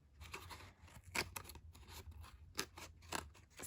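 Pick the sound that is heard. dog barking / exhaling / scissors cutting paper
scissors cutting paper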